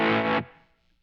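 A MayFly Terrain Deluxe distortion pedal in normal mode gives a single loud, thick, buzzing distorted guitar chord that cuts off sharply and leaves a short fading tail.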